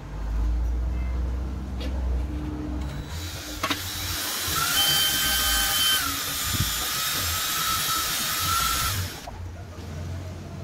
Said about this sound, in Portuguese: homogeneizar essa tinta usando esse batedor de bolo que eu coloco na furadeira